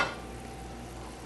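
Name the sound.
stirring a sizzling mixture in a pan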